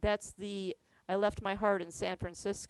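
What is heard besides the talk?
No distinct noise like a dog, phone or traffic.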